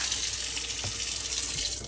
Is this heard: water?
yes